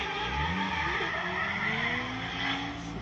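Drift car at Ebisu thrown into a backwards entry, tires squealing continuously over a steady engine drone, loud and close for the whole stretch, with the pitch sliding as the car swings around.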